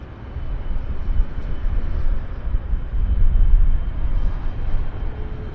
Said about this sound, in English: Air North is rolling.